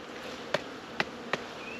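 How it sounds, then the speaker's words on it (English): Honeybees buzz around an opened beehive during a spring hive check, a faint steady drone broken by three sharp knocks or clicks spaced about half a second apart. "Yeah, look at all those bees."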